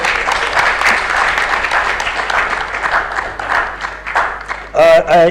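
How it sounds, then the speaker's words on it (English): Audience applause at an international symposium on organized crime in Africa, steady dense clapping from a hall crowd lasting several seconds, with a voice speaking over the end. "Please give her a round of applause."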